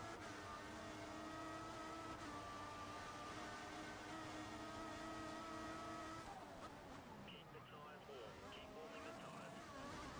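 An F1 2014 racing car engine screams at high revs, a steady loud whine that holds for several seconds and then drops away as the car shifts and slows, with tyre and track noise underneath.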